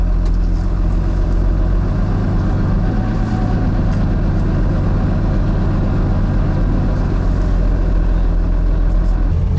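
Lamborghini Miura engine running steadily outdoors at Salon Privé, a loud continuous low rumble with no talk over it, heard from close by throughout.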